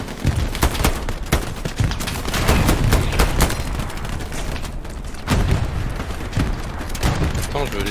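Gunfire in the World War II video game Hell Let Loose, irregular bursts of loud, sharp shots and booms scattered across the clip, with a player talking in between.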